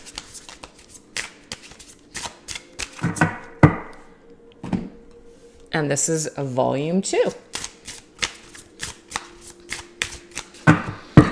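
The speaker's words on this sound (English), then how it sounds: "so everything is shuffled" Tarot cards are shuffled by hand in quick crisp bursts of riffling and snapping, interrupted by someone speaking between shuffles.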